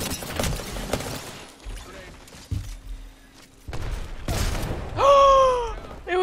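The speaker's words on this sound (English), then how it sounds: "Oh, he threw a grenade at me." A grenade goes off during an Apex Legends firefight, heavy thumps and blasts mixed with gunfire and mechanical clatter, followed by a bright rising electronic whine near the end, with a player talking over the action.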